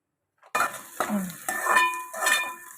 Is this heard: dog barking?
no